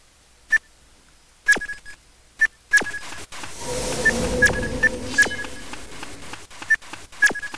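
Short electronic dialing tones from a phone in an old-school MMO game, a series of brief bright beeps spaced irregularly over a soft ambient game backdrop, with several sharp clicks between them.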